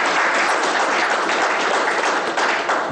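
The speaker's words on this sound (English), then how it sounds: "We can have a clap for everyone else as we begin the conversation" A studio audience at an evening television discussion programme applauds in a steady, continuous wash of clapping that stays loud and even for a few seconds.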